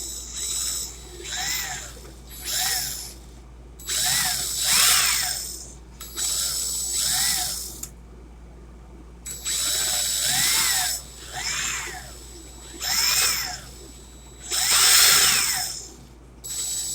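A power drill whirs in repeated short bursts, each spinning up and winding down, separated by brief pauses, close and fairly loud.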